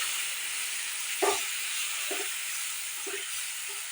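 Onion and garlic paste frying in a pan over a medium gas flame, a steady hiss with a few soft bursts of sizzle and spatter, close and alone with no talking.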